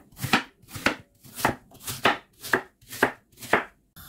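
A knife cuts two large peeled, cored apples into cubes on a board: eight crisp, evenly spaced chops, close and loud, with no talking.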